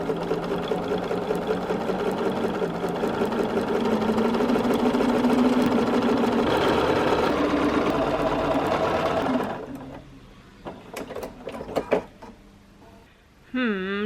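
A sewing machine stitches strips for a scrap quilt block in one long, steady, loud run of about nine seconds. Quieter clicks and handling noises follow once it stops.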